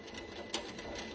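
Sewing machine stitching the top hem of a fabric pouch, a brief quiet steady mechanical whir with one small click partway through.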